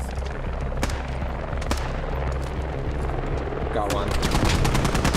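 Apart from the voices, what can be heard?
machine gun fire from RWS in a video game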